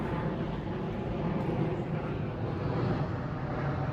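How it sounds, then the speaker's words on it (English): A large Emirates airliner passes overhead, its engines producing a steady, broad roar that holds even and fairly loud throughout. "Whoa, that's a huge airplane"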